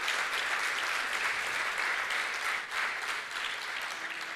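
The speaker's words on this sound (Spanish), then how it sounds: "Fuerte el aplauso al Cristo de la gloria." A church congregation applauds during a Spanish-language sermon. The clapping is a dense, sustained wash, moderately distant and fairly quiet, that carries on evenly with only a brief dip midway.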